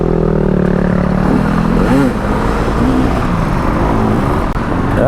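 Dual sport motorcycles race along a quarry rally trail, engines rising and falling through several passing revs over a loud, constant ride rumble, with gravel clatter throughout.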